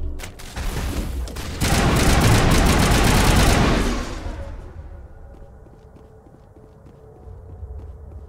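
Gunfire in the game Mass Effect: a loud, dense burst of rapid automatic fire that roars for about two seconds, then drops away into quieter rattling and faint clacking footsteps.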